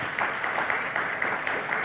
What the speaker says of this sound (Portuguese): a igreja pudesse dar uma forte salva de palmas aos nossos queridos irmãos